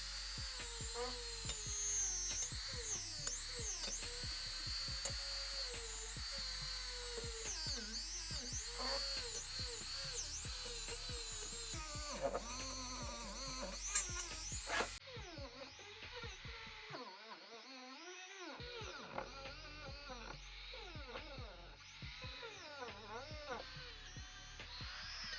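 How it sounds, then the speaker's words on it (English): A power drill spinning a wire wheel, straight and cup types, scours a dirt bike engine case, whining at high speed with shifting pitch as it bites the metal, briefly breaking off partway through. "So I've been trying the regular wire wheels here. I got a straight one and a cup as well."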